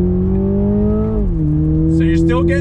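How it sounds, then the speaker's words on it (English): A 2021 Toyota Supra with a 2.0-litre turbocharged four-cylinder in manual shift mode pulls under throttle with a loud, steady engine drone. The pitch climbs, dips briefly at a quick shift, then holds, with a voice speaking over it near the end. "we're in the 2021 Supra, that 2-liter turbocharged engine"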